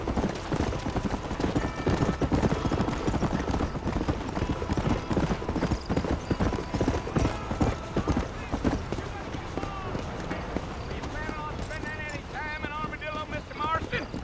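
Horse hooves clip-clop at a fast, steady gallop in Red Dead Redemption on PC, close and loud over wind rush, with the rhythm carrying on throughout.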